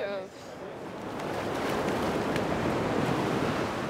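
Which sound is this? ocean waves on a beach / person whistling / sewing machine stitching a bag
ocean waves on a beach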